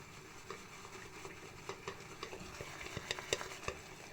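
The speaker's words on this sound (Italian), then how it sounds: "Diamo una sgrullata al pennello e cominciamo a prelevare" A shaving brush swirls on a puck of shaving soap to load and build lather, making a quiet, close, wet, squishy churning with small irregular clicks and taps that grow busier toward the end.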